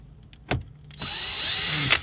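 A power drill unscrewing screws from the radio of a 2010-2014 Golf GTI: two brief clicks, then the drill whirs up to a steady, close whine until the clip ends.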